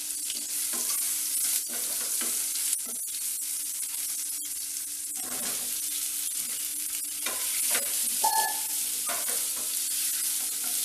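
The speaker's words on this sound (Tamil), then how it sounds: "நல்லா சிம்லே வச்சு நல்லா ரோஸ்ட் பண்ணணும்" Baby potatoes coated in masala roast in a pan on a low flame, giving a low, steady sizzle broken by occasional spatula scrapes and stirs.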